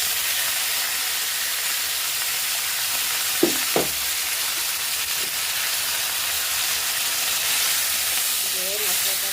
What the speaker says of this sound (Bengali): তেজপাতা আর গরম মশলা দিয়ে আমি পেঁয়াজটা ভেজে দিচ্ছি